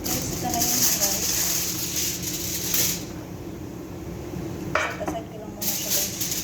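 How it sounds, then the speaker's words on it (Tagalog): Onions frying in a pan as a topping for chicken, a steady hiss and sizzle with occasional clinks of a utensil against the pan, while a person talks over it. "nag-fry ako ng onion para sa toppings mamaya sa chicken"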